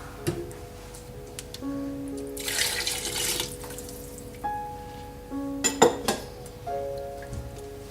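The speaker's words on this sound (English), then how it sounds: "Some more water." Water pours into a cooking pot for corn chowder, a splashing rush in the middle of the clip and again briefly near the end, with kitchen clinks and tones between and no talking.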